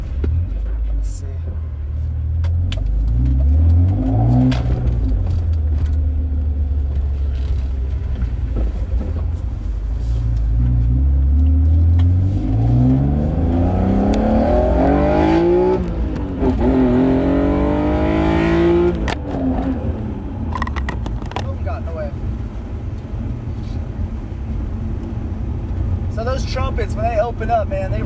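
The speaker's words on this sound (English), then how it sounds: "give you guys the sound of these trumpets that I've shown you guys in the past." A BMW E46 M3 with a manual swap, intake trumpets and a Supersprint exhaust revs hard and close up, its engine note climbing and falling in several loud, roaring sweeps.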